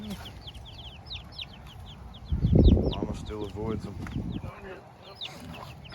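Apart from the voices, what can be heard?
chickens clucking, rooster near chicks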